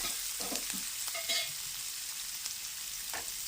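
Onion, green chili and salt frying in a pan, giving a soft steady sizzle with a few stirring scrapes and clinks, fairly quiet and without talk.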